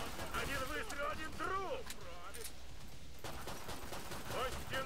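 Gunfire from the video game Killing Floor 2 crackles faintly in quick volleys, low in the mix beneath in-game creature noises and background sound.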